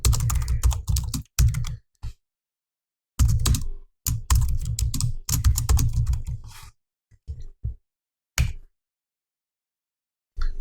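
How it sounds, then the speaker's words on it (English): Bursts of close keyboard typing, rapid clicking runs broken by silent pauses and a few isolated keystrokes. "as I was typing this heading"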